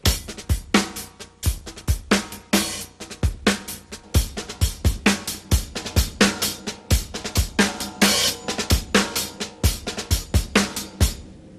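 A slow, march-like drum groove on a kit, with snare drags from double ghost strokes between the main hits, plus bass drum and cymbal, played loud and close in an even pattern with no voices.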